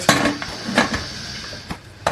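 Close metallic clinks and clatters sound as a pressure cooker lid with a whistle is set and closed over coconut milk rice, a few sharp knocks scattered across a brief moment.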